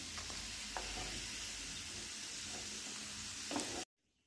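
Turmeric and spices frying in hot oil give a steady, dense sizzle with a few faint spoon taps. The sound cuts off abruptly just before the end.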